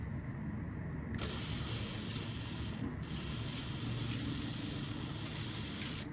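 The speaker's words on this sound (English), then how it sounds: "Let's try this, the WD-40." WD-40 penetrating oil sprayed onto a threaded part in a steady, continuous hiss lasting several seconds with a brief pause midway, close and fairly loud.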